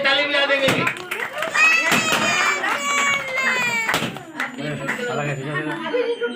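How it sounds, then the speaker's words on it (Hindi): People clap together at a child's birthday celebration while excited voices and children's chatter ring out over the rhythmic clapping, with a fussy cry mixed in. "सब में ताली बजा देंगे।"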